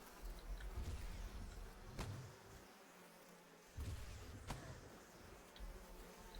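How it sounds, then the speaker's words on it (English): Buzzing bees acting as a timer mechanic in the Old Baba's Hut video game raid, a steady insect drone with faint low rumbling and a couple of sharp ticks, fairly quiet with no talking. "So the bees are like a timer mechanic."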